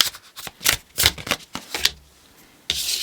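Tarot deck being shuffled by hand during a card reading, a run of crisp riffling bursts and slaps, close and fairly loud, with a short pause before a final stretch of continuous card noise.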